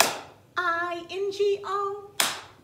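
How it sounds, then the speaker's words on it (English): Two sharp hand claps, one at the start and one near the end, bracket a sung stretch of the Bingo children's song where letters are spelled out, with claps standing in for the dropped letters. "So for every letter that we take away, we're going to add a clap."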